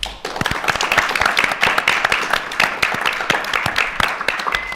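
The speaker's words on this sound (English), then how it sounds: "Now let's everybody give them a huge round of applause." Audience applause at a board of education meeting, a dense burst of many hands clapping together, loud and close, sustained steadily for several seconds before tapering off.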